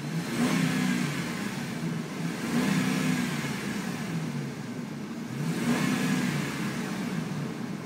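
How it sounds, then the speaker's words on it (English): A 2005 Ram pickup with 46k miles idles quietly, heard through an open window, a low steady engine hum with gentle rising and falling pulses and no talk. "let's roll down the window and listen to the motor here"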